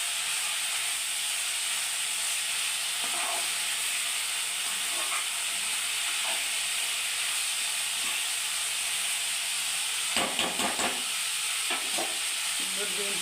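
Shredded cabbage fries in oil with a steady, even sizzle, turned now and then by soft stirring strokes, and a louder burst of scraping and spluttering comes near the end.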